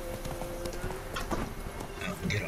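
A horse gallops in The Witcher 3 video game, rapid rhythmic hoof clip-clops at steady pace under soft background game music, with a brief voice near the end.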